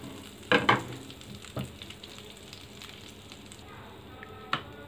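Butter melts with oil in a hot pan, giving a faint low sizzle with a couple of sharp clinks and a brief utensil tap near the end.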